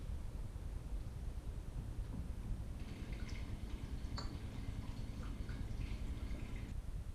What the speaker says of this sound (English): And just pour a little bit in.